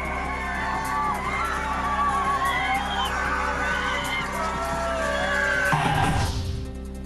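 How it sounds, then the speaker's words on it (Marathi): Crowd of devotees at the Khandoba village fair in Tandalwadi, a dense murmur of many voices with shouts and calls, steady and moderately distant, ending in a brief louder rush. "उत्सवात तांदलवाडी परिसरातील ग्रामस्थांचा सहभाग, दर्शनासाठी भाविकांची गर्दी"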